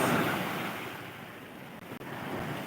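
Strong, rough sea waves wash continuously onto a beach, a broad rushing roar that is loudest at first and then eases slightly, mixed with wind buffeting the microphone.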